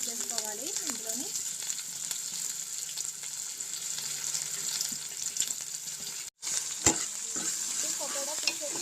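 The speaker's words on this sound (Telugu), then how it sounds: "ఉల్లిగడ్డలు బాగా యాగనివ్వాలి, మంచిగాను మంచి రంగు వచ్చే వరకు బాగా యాగనివ్వాలి" Onions, green chillies and curry leaves fry and sizzle in a pan as a steady hiss, with stirring clinks and a brief dropout near the end.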